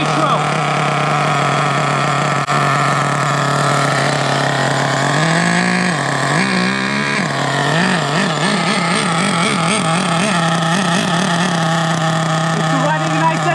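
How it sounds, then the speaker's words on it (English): A nitro-powered HPI Savage X 4.6 RC truck engine idles rich, a loud, steady, buzzing drone that warbles and surges in pitch midway before settling back to an even idle, with a voice talking over it. "It's running nice and rich! Look at that idle!"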